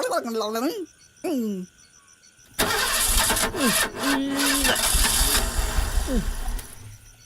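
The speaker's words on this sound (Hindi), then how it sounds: "गाड़ी स्टार्ट नहीं हो रही है सर।" A car engine is turned over by its starter during a nighttime ride, with repeated cranking that does not catch, loud and close, and speech is heard before it begins.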